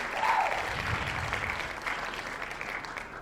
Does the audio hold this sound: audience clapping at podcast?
yes